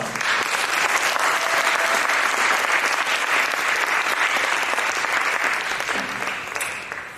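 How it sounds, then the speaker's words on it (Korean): A church congregation at a Sunday service in Boston gives big, sustained applause to welcome the guest preacher, a dense steady roar of clapping for about seven seconds that tapers slightly at the end. "그 기대를 담아서 우리 강사님 앞에 나오실 때 큰 박수로 맞이하면 좋겠습니다"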